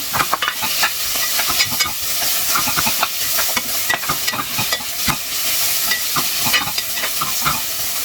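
Garlic, onion and tomato sautéed together in a pan, stirred with steady scraping strokes over a constant close sizzle, with no voices.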